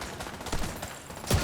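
Pistol gunfire in the video game The Division 2, with a few sharp shots spread through a noisy game mix, the loudest burst near the end.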